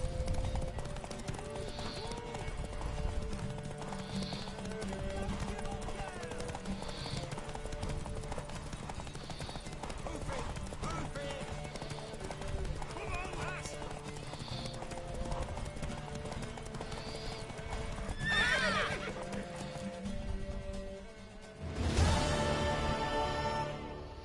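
Horse hooves clip-clop steadily at a gallop in the video game The Witcher 3: Wild Hunt, with a brief whinny near the end and a sudden loud burst of noise after it.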